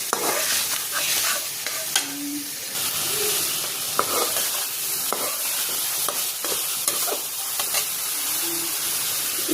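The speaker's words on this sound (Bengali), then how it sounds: "এখন আমি যে কাঁচা কলাটা দিয়ে দিচ্ছি।" Raw green banana pieces going into hot oil in a pan, a dense bright sizzle with hiss and steam, plus scattered stirring scrapes and clinks, close and steady throughout, no talk.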